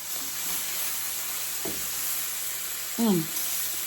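Potatoes fry and sizzle in a pan as they are stirred, a constant hiss with a couple of short scraping stirs and a brief voice sound near the end.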